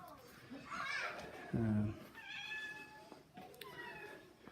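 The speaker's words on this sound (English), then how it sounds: "Can probably hear the cat" A cat meows several times nearby, short rising cries spaced out over a few seconds, with faint background voices.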